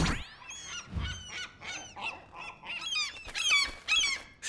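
Cartoon gulls squawk and honk in a rapid, overlapping flurry of shrill, goose-like calls, loud and close, with a short swoop at the start.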